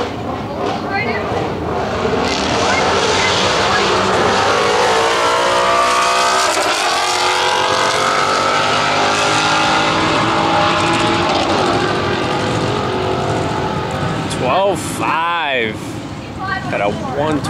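A 2016 Mustang GT with an 18 manifold and Corsa Extreme exhaust running a quarter-mile drag race, its engine roaring loud and rising through gears for a long pull, with an announcer talking over it.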